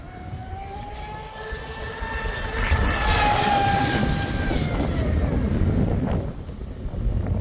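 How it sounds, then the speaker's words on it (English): Strong wind buffets the microphone in loud, rumbling gusts, with lake water lapping faintly underneath while an RC boat runs. "It is so windy."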